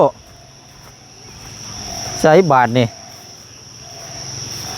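A steady night-time chorus of croaking frogs outdoors, mixed with a thin, continuous insect-like buzz, runs through the whole stretch at moderate level. A short burst of a person speaking rises over it midway.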